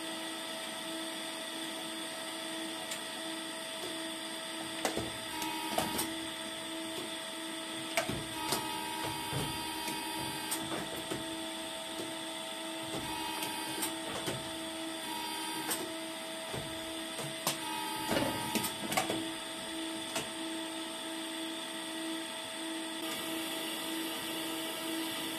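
Tool changer of a machine running, recorded from inside the enclosure: a steady mechanical hum with whining tones, broken by repeated clicks and clunks through the middle, close and continuous with no talking.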